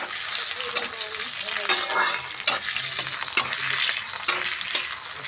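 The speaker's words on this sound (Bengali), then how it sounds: "এবার ভালো করে তেলের সঙ্গে মিশিয়ে ভেজে নেব হালকা করে।" Chopped boiled potato pieces frying in hot oil in a pan and stirred: a bright, continuous sizzle broken by repeated scraping strokes and light knocks of the spoon against the pan.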